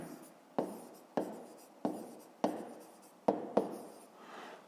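A pen writes in a notebook, a close, quiet series of about six scratchy strokes at regular intervals, each starting sharply and fading out, with no voices.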